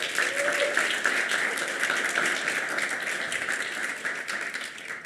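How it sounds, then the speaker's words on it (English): A room of listeners at a talk applauds steadily, a fairly soft, even patter of many hands that gently thins out toward the end. "Let's give them a round of applause."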